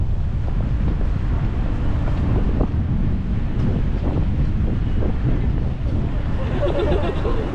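Strong cold wind blows by the Kamo River beneath Shijo Bridge in Kyoto, buffeting the microphone in a constant low roar with faint distant city sounds underneath.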